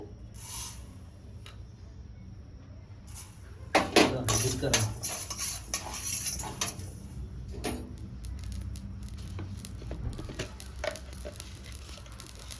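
Mustard seeds and cumin fry in a pan for gongura pickle, with close metallic clattering and scattered sharp crackles. The busiest, loudest stretch falls in the middle, then it settles into lighter, steady activity.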